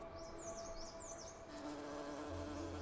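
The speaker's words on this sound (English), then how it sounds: "a plant with fur that's visited by hairy mountain bees" Hairy mountain bees buzz around furry Himalayan flowering plants, a close, steady insect drone with a hum that rises and falls in pitch over a faint outdoor background.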